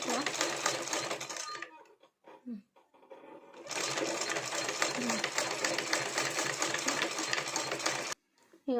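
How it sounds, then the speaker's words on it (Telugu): A sewing machine slowly stitching piping onto a blouse runs in two long, steady whirring spells. A short pause between them carries brief voice sounds. "ఇలా పైపింగ్ థ్రెడ్ పైన రావాలి, స్లోగా కుట్టాలి."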